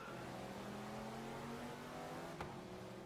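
A Porsche engine racing in Forza Horizon 3, a steady sustained engine drone at constant pitch, fairly faint, with a brief click near the end.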